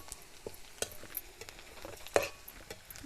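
Garlic and onion fry in oil for a tempering, with cumin about to go in. A faint, low sizzle runs throughout, with occasional light clicks and scrapes from stirring.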